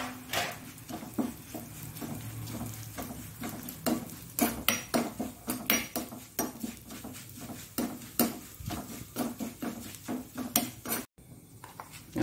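A utensil stirs poha (flattened rice) roasting in ghee in a pan, giving repeated sharp scrapes and clinks in an irregular rhythm over a faint sizzle, close and fairly loud.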